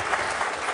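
Dense audience applause during a lecture on freeing the brain, a continuous wash of many hands clapping at moderate distance, steady and even throughout a brief moment with no voices on top.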